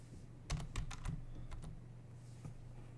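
Keys clatter on a computer keyboard in short irregular bursts of typing, close and fairly quiet over a low steady hum, with no speech.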